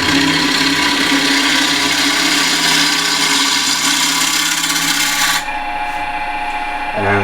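A continental spindle gouge scrapes and hisses against spinning wood on a lathe, a loud continuous rasp with a humming motor, the cutting stopping near the end.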